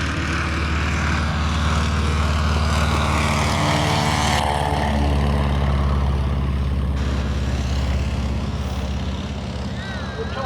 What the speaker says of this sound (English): The 225 horsepower Lycoming engine, air-cooled radial engine.